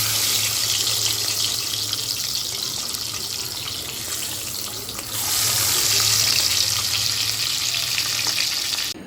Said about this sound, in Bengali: এবার আমি মাছগুলি আস্তে আস্তে ভেজে নেব।